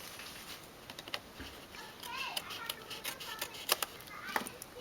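Scissors cutting paper for a collage journal page, heard as faint, quick snips that cluster toward the end over a soft, quiet room background.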